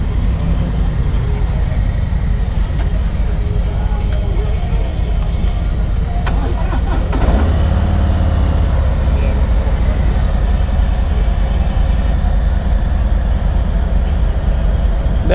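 A 2021 Harley-Davidson Ultra Limited with the 114 engine rumbles steadily at close range during a test ride at a bike week in Nags Head, North Carolina, a continuous low engine drone with a brief louder swell midway.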